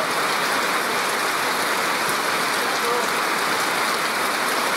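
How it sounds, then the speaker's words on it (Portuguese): Steady rain falls on a rural farm where chickens stand out in the downpour, a dense, even hiss of water continuous throughout with no pauses. "O comitê das galinhas na chuva lá, seu João, olha lá"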